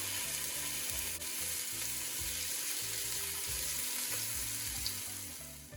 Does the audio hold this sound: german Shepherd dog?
no